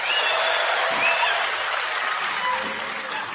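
A crowd at a political gathering in Kenya cheers and applauds in a dense, sustained wash of clapping and shouts that tapers slightly toward the end.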